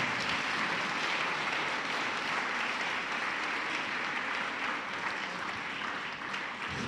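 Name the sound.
congregation applauding in church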